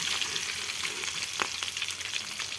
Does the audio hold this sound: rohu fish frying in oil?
yes